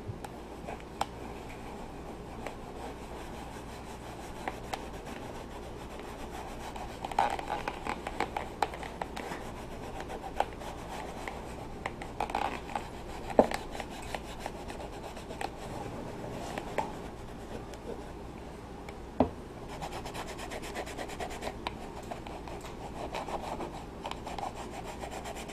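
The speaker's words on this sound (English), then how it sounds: "and just start rubbing it in." An old rag rubs Tan Kote conditioner into a leather laplander sheath, giving a soft, steady rubbing and scuffing sound, close and quiet, continuing throughout with occasional small bumps.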